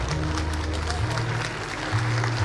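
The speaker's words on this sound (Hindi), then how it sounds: "इनके लिए सब लोग खड़े होकर बहुत भरपूर तालियां।" Audience at a memorial ceremony for martyrs clapping for a martyred major's daughters, a continuous wash of applause with a low hum and murmur beneath.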